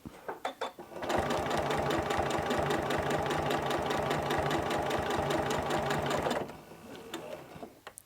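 A sewing machine stitches a fabric seam along a cloth guide, running at a fast, even mechanical chatter for about five seconds after a few slow starting stitches, then slowing to a stop.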